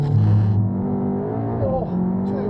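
A VW Golf R with a DSG gearbox holds a loud, near engine drone at about 4,000 rpm for launch control, then the pitch shifts and climbs as the car pulls away.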